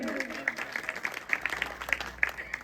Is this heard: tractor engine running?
no